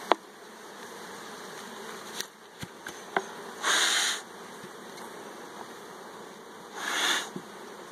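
Honey bees hum in a steady, dense drone close by at a hive being split, with a few sharp taps and two louder bursts of hissing puffs from a smoker.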